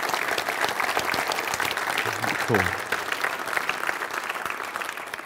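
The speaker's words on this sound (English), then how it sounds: "So can I have a round of applause" An audience at a VMware community user group keynote applauds with steady, dense clapping throughout, and someone briefly speaks over it.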